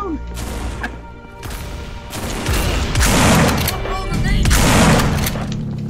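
Gunfire from weapons in the video game Half-Life 2 Deathmatch, a fast, dense burst of shots and crashing impacts that grows louder toward the middle and end, with people talking and shouting over the game.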